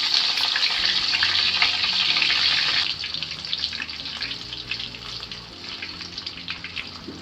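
Capsicum pieces dropped into a hot pan for chili chicken, giving a loud, bright sizzle and crackle for a few seconds that then settles into a softer, uneven frying hiss with occasional stirring clatter.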